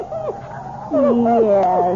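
A dog in a radio drama gives a run of high, wavering whimpers and whines, close and fairly loud, getting more insistent partway through.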